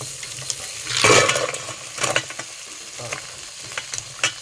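Seafood hits hot oil in a pan with a loud sizzling burst, then settles into a lighter crackle with scattered clinks and stirring noises.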